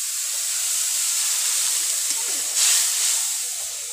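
Fish sizzles steadily in hot oil in a pan with spices, a broad constant hiss that swells briefly louder partway through, with no talk.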